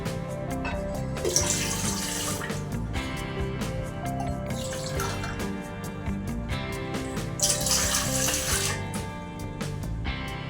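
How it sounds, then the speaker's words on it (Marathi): A steady stream of water pours into a metal idli steamer, splashing and ringing continuously for several seconds, close up. "आता इडली पात्रामध्ये आपण पाणी घालून घेऊ"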